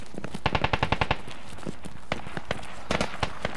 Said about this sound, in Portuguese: Tiro na direita, tiro na esquerda aqui